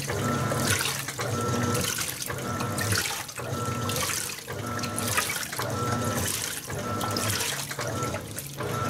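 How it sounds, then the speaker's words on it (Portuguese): Rinse water sprays steadily from the cascades of a Panasonic 18 kg top-load washing machine onto laundry. A continuous, close splashing rush pulses gently about once a second as the drum agitates, with no voices. "tem essas cascatas aqui, né? Que ajudam, jogam água aqui na parte superior das roupas, né?"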